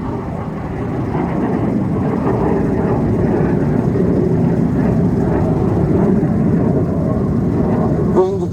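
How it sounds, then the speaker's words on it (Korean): A fighter jet passes overhead, a loud, steady broadband roar that fills the whole stretch without letting up, with faint speech mixed underneath. "오늘 전투기 비행하는 날이군요."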